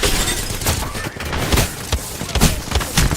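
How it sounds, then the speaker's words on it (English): A close, loud fusillade of video-game gunfire crackles in rapid, uneven bursts of sharp cracks and booms aimed at the player, over about three seconds with no talking. "I'm getting shot at."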